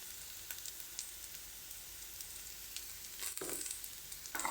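Pirandai (adamant creeper) sautéing in oil with asafoetida, tamarind and coriander leaves for a thuvaiyal: a soft, steady sizzle throughout, with a couple of brief stirring scrapes near the end.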